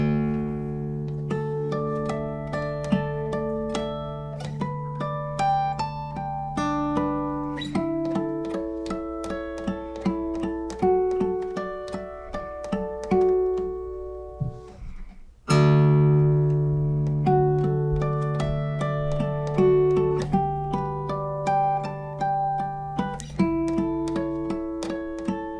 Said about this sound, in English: I'll kick off with a pedal, and then I'll improvise a little bit with the artificial harmonics